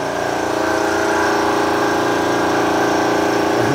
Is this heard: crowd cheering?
no